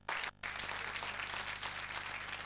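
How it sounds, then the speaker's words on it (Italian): Audience applause at a televised dance show, erupting in a short burst, briefly dropping, then settling into dense, sustained clapping that stays loud throughout. "questo è il vostro applauso, meritatissimo"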